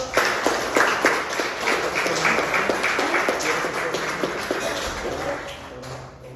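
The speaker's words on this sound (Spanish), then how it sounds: "Nos da un aplauso, ¿no?" An audience at a Spanish-language religious talk about God the Father claps in a brisk, scattered burst of applause that holds steady for several seconds and then thins out toward the end.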